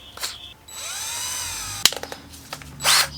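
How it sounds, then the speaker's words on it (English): A small power drill boring a 7/64 hole through the handle of a DIY anchor pole, a rising motor whine for about a second, then clicks, a sharp knock and a short final buzz. "I'm going to drill the handle first just to get that first hole started"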